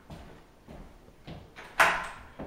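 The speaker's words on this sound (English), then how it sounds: "I'm gonna go lock the door." A door at home is handled with soft clunks and one sharper latch-like knock near the end, fairly close, with low shuffling noise between and no talk.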